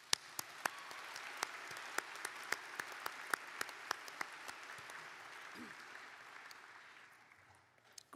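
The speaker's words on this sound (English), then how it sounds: "A round of their applause, please," A university commencement crowd applauds steadily, with a few sharper individual claps standing out, before the clapping fades toward the end.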